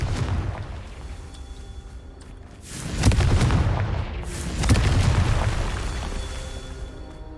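A Confringo fire spell in Hogwarts Legacy bursts with two heavy booming blasts, each swelling and then fading into a rumbling tail over a low background drone, with no talking.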